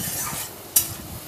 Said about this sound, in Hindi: आलू को भी बहुत ही अच्छे से फ्राई करना है हमें